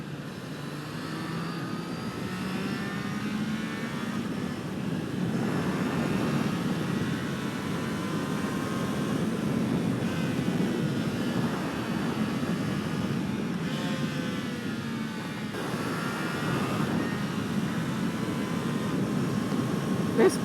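Triumph Trident 660 motorcycle ridden onboard, a constant engine hum with shifting revs and strong wind noise, steady and fairly loud, with a rider's voice faintly underneath.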